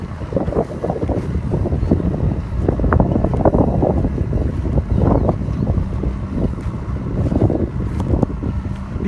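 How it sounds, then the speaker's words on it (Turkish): A John Deere 5095 tractor pulls a Pars plough across a field on the Söke plain, its engine a steady, loud, rumbling drone under wind buffeting the microphone, with no talk. "John Deere 5095 traktör."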